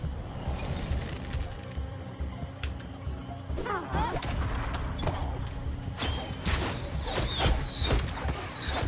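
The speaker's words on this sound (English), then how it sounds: "The horses!" Horses clip-clop and whinny amid crashes and commotion in the Minecraft: Story Mode video game, loud and busy throughout with occasional game sounds layered over the hoofbeats.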